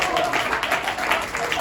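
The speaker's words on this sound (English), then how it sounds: "Let's give them a round of applause." A round of applause fills a room at a USANA Asia Pacific training event, steady dense clapping from an audience with a faint voice underneath.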